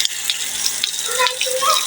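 Water running while plants are watered outdoors, a light continuous splashing and trickling stream, close by and fairly soft, with faint background sounds.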